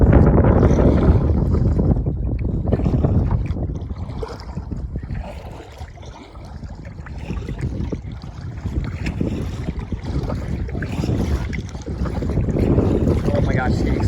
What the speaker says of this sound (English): it's getting so windy